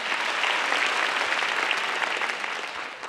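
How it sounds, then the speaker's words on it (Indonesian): A live studio audience at a stand-up comedy grand final in Indonesia applauds, a dense, steady wash of clapping from many hands that eases off slightly toward the end. "Beri tepuk tangan sekali lagi untuk Bang Densu."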